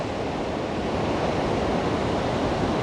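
Ocean waves on a Costa Rica beach roll and wash continuously in a dense, steady roar, close and loud, with wind noise blended in and no voices.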